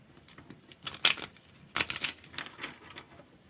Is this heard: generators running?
no